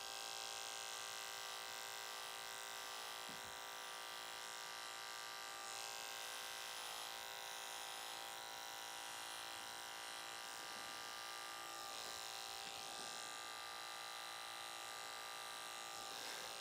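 Electric hair clipper buzzing steadily while cutting curly hair in a high fade, a close, continuous motor whine holding constant for the whole stretch with only slight shifts as the blade moves over the head.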